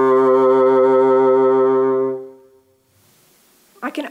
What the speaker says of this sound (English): For me to create vibrato, I use my diaphragm, so it comes from way down here in my muscles